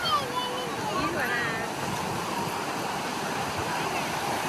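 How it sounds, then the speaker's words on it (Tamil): Ocean waves rolling onto Marina beach, a steady, dense wash of surf and wind that stays loud and unbroken throughout, with no pauses between breakers. "பீச்சுக்கு போனால் இந்த அலை சவுண்டு இதெல்லாம் கேட்டுகிட்டே இருக்கணும் போல தோணும்"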